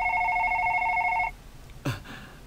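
A telephone rings with a steady electronic double-tone for a little over a second, then cuts off, leaving room quiet and a brief soft thump.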